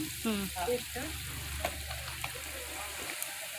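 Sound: ginger and coriander paste frying in hot oil with onion

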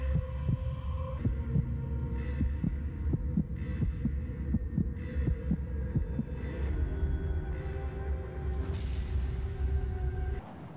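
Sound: heartbeat sound in a video game

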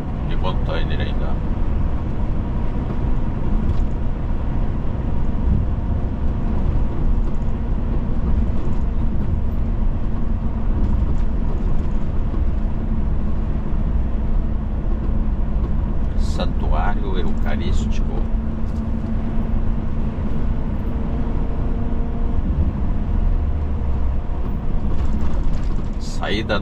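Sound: freight train with container wagons passing

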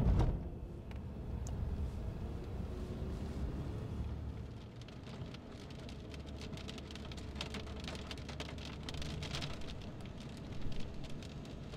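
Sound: heavy rain falling in Taif city

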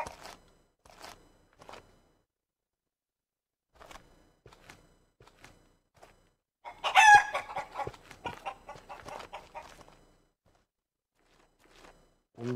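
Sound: chickens clucking in a farming video game

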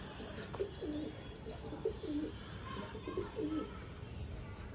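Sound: pigeon cooing

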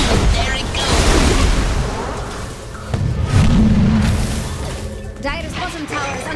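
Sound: tower being destroyed in the video game Dota 2

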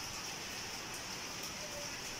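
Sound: rain falling

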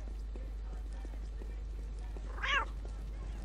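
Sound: cats meowing in the video game Postal 2

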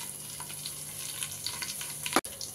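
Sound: spices sizzling in hot oil

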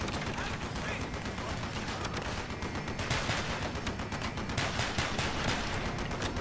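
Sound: big gun firing in Call of Duty: Black Ops video game

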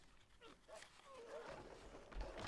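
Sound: dogs attacking in Stronghold Legends video game

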